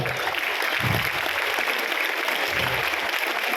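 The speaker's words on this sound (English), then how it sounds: "Let's clap for them." An audience claps for teachers at a motivational speech event, loud dense applause filling the whole stretch evenly, with faint cheering mixed in.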